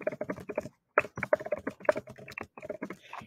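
Quick, steady typing on a computer keyboard, a dense run of light key clicks with short pauses, heard close and alone.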